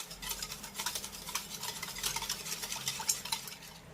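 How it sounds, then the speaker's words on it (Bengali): A spoon stirs sugar and milk powder into liquid milk in a bowl, with soft repeated scraping and swishing strokes at a steady rhythm, close and fairly quiet. "এবার আমি চিনি আর গুঁড়ো দুধটাকে এই লিকুইড দুধের সঙ্গে একটু ভালোভাবে মিশিয়ে নেব"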